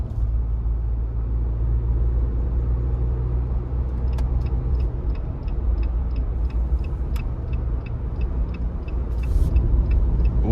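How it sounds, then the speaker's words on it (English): A 2023 Jeep Wrangler Sport S two-door with a 2.0-liter turbo four-cylinder pulls onto an interstate under light throttle, a loud steady engine and road rumble heard from inside the cabin with a repeating turn-signal tick. "Now I'm gonna give it a little bit of throttle getting on the interstate"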